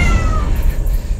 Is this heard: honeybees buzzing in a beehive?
no